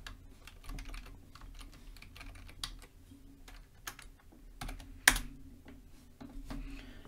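Quiet, close keystrokes on a computer keyboard tap out a password in an irregular rhythm, with one sharper key press standing out, and no talking.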